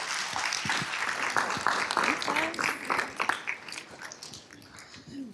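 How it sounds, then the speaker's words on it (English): Applause from a neurorehabilitation conference audience fills the room, a dense steady patter of many hands clapping at close range, with a few whistles or cheers rising briefly before it slowly thins out. "can we give this awesome group a big round of applause"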